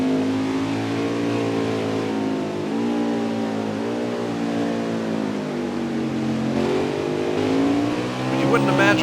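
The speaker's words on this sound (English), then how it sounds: "you're changing gears, you're changing speed, you're demanding so much power off these corners" NASCAR Xfinity race cars accelerating hard on the Mid-Ohio road course, engines revving up and shifting gears with rising and falling whine, a commentator talking over the continuous roar.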